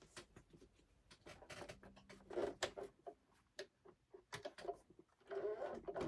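A sewing machine stitches cat quilt block pieces together in short quiet bursts of rapid ticking, starting and stopping, close and faint.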